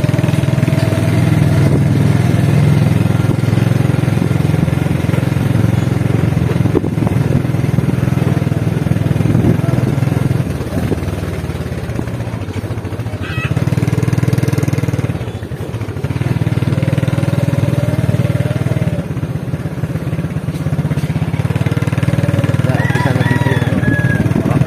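A motorcycle engine runs continuously while riding on Cagbalete Island, a steady mid-pitched drone with clattering and faint background voices throughout.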